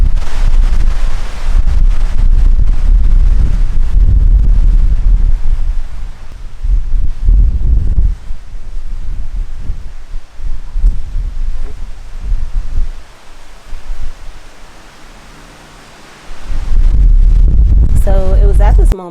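Strong outdoor wind buffeting the microphone in a garden, loud roaring gusts that rise and ease over the whole stretch, ending with a clattering knock as the camera is blown over.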